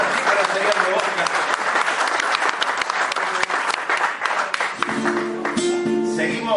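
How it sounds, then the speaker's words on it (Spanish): Loud, dense applause fills a room at a folk music peña held by a Boca supporters' club in Dolores, Buenos Aires, dense and steady throughout, with a sustained tone rising beneath the clapping near the end. "Fuertes aplausos"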